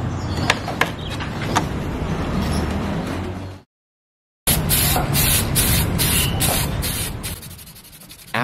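Aerosol spray paint hissing onto a giant DIY radio-controlled model of the aircraft carrier USS Enterprise CV-6, in close steady bursts broken by a short silent gap, with light rubbing and handling noise.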